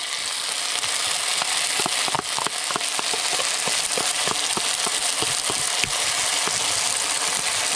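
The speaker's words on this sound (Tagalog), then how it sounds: "Yan ang tunog ng sisig." Sisig, a chopped meat dish, sizzles in a hot pan with oyster sauce added. There is a steady close frying hiss with scattered crackles and pops and no talking.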